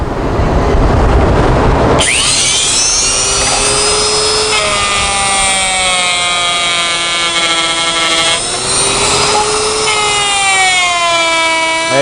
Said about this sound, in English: Use your hearing protection because it's louder cutting aluminum than it is when you're cutting